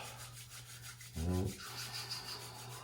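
Palms rubbing briskly together in a short burst of dry friction, close up, against a steady low hum.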